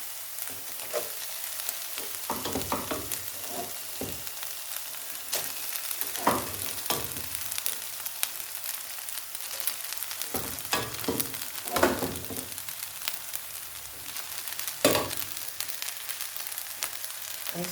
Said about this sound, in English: So I will transfer the rice inside to fry.